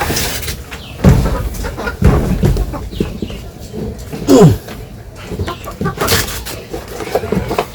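Village hens clucking in short, loud bursts close by, with scattered squawks and a few knocks in between the calls.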